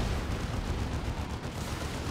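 Baneblade super heavy tank from Dawn of War 2 Retribution firing its battle cannon and las cannons, heard as a dense, continuous roar of heavy gunfire and rumbling explosions with no clear gaps.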